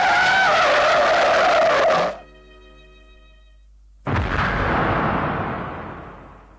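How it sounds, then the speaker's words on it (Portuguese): An anime car races at full speed, its tires shrieking in a loud, sustained skid that cuts off abruptly, followed by a brief near-silence and then a heavy, roaring burst of engine noise that slowly fades. "vem um carro a toda velocidade na direção dele"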